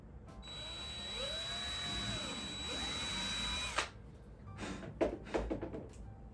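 A cordless drill boring a hole in a touch-screen photo booth enclosure, a whining motor that rises and dips in pitch for a few seconds and then stops, followed by some sharp knocks and handling sounds.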